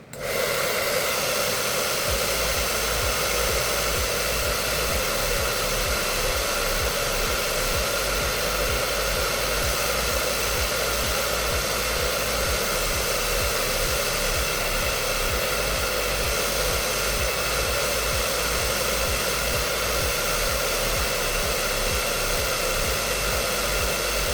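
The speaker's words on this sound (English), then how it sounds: "Now we'll blow dry it." A handheld hair dryer blows steadily and loudly on hair while edges are set during a closure wig install, a continuous close-up whoosh that runs the whole time with no talking.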